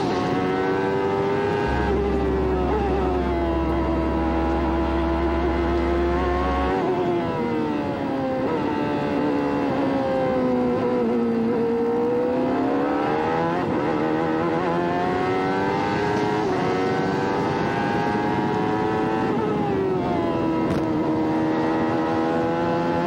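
Onboard Robby Gordon's race car at the 1994 Mid-Ohio Grand Prix, a loud, sustained high-revving engine note climbs and falls through gear changes and corners, filling the whole stretch with no voices.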